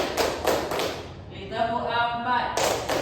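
A school class plays a counting clapping game in a classroom, with a run of quick, sharp claps, then a pause while a voice speaks, then more claps.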